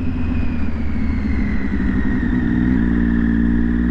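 A motorcycle engine drones steadily and close while the bike is ridden at about 40–50 in a 40 zone, its pitch shifting slightly near the end with no talking.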